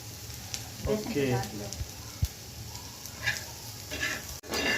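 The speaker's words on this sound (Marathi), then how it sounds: "कांदा भाजून घ्यायचा आवडीच्या मसाल्यात घालायला." Onion roasts in a pan with a steady, close sizzle and occasional stirring clicks and scrapes, while people talk briefly over the cooking.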